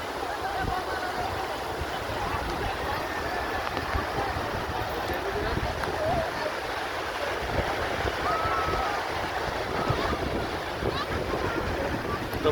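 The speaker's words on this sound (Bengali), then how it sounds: "সমুদ্রের গর্জন আপনারা শুনতে পাচ্ছেন" Sea waves roar without pause on the beach at Mini Cox's Bazar near Chittagong, a loud, dense wash of surf mixed with buffeting wind on the microphone.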